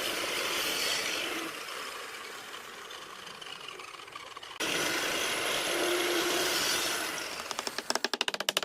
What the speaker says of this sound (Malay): Radial arm saw digunakan untuk memotong bahagian tanggam bawah kayu.